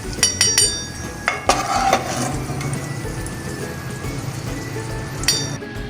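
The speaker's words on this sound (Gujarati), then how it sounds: "દ્રાક્ષ ફૂલે ત્યાં સુધી આપણે રોસ્ટ કરવાનું છે" Raisins roast in ghee in a pan for makhana kheer. A spoon clinks and scrapes against the metal in quick bursts early on, over a faint, steady sizzle, with fewer clinks later.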